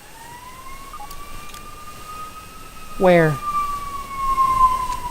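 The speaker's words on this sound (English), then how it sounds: "Oh my god, ambulance." A wailing ambulance siren sounds in the game Grounded, a steady rising tone sweeping through, while a voice briefly speaks over it.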